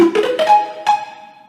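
A dry synth pluck: a few quick bright notes rising in pitch, then one last note ringing out and slowly fading, with no echo or reverb.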